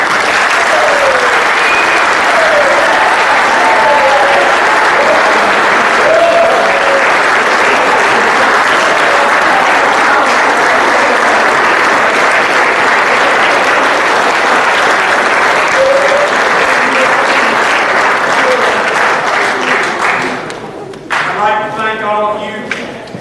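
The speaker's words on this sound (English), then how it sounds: "But I'd like to give our seniors a round of applause" Loud, sustained applause from the audience at a Bacon County Red Raider high school football banquet honouring the seniors, a dense steady roar of clapping with a few faint voices, fading near the end as a speaker resumes.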